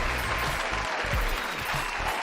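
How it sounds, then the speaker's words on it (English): Applause from an audience during a live stream, a dense, steady clatter of many hands clapping throughout, fairly loud and unbroken. "Okay, enough on the applause."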